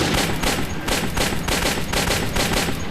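Rapid gunfire from the player's weapon in the shooter Metro 2033, loud and close: a dense stream of bursts that repeat in a steady rhythm with no pauses and no voices.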